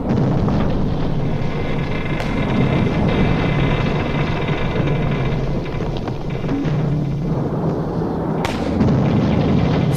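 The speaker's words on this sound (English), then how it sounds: "And then the ship fired 3 grenades." Practice depth charges fired by a ship explode near a submerged submarine. A loud, continuous booming rumble fills the whole stretch, with sharper thuds rising out of it twice, and no talk.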